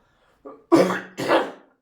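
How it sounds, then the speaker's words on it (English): A short burst of close, harsh coughing: a small throat sound, then two forceful coughs in quick succession. "So if I do cough a lot, I do apologize."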